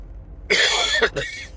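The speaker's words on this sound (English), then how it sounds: "Always in the last third of the journey I start coughing." A single harsh cough, sharp and close, with a brief second burst right after, then quiet.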